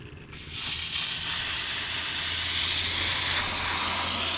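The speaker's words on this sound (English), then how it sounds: "Is get your steam going. I just turned her on." A household steam cleaner is switched on, and its steady, loud steam hiss rises within the first half second and then holds unbroken to the end.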